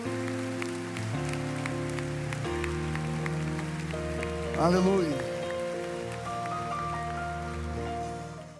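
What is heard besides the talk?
applause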